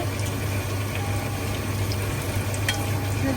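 Coconut pieces and dried red chilies fry in hot oil in a pan for an Angamaly-style pork fry, a dense, steady bubbling sizzle heard close up and unbroken.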